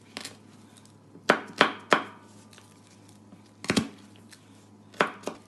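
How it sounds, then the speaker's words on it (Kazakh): A kitchen knife chops garlic on a cutting board in short clusters of sharp taps: a single knock, then three quick strikes, a pair, and two more, each close and crisp against a quiet room. "Сарымсағымызды турап дайындап қойдық"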